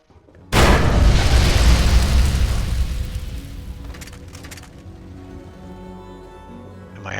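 A booby trap explosion in the video game Fallout 3 goes off as a sudden loud blast, then a long rumbling decay with crackling debris that fades over several seconds.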